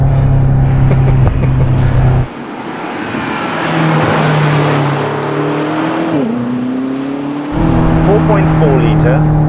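BMW M8 Competition with a 4.4-litre twin-turbocharged V8 and four-wheel drive, heard from inside as the engine drones and rises with acceleration, steady and close, with someone talking over it throughout.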